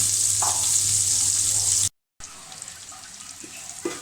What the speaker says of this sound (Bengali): এখন আমি এই তেলের মধ্যে পেঁয়াজ আর কাঁচামরিচ ভাজি করে নেব